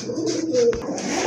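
Pigeons of the Rajgolla breed, a pair with tiger-pattern white and black coloring, coo in a low, steady stream, close by and continuous without talk, with a faint brief whistle-like tone partway through.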